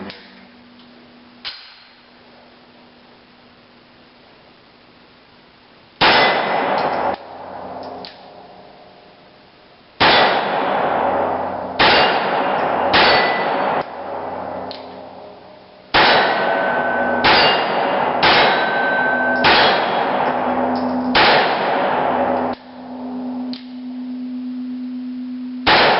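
Colt .22 conversion unit on a Rock Island Tactical 1911 pistol firing, sharp metallic shots arriving in irregular clusters after a quiet opening, each a loud close crack with a short ringing tail.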